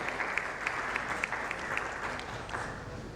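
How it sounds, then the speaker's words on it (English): An audience at a business panel on customer experience claps for a speaker, a continuous crackle of many hands with small bright peaks, moderately loud and uninterrupted. "A big round of applause to Sachin for his wonderful contribution in the panel."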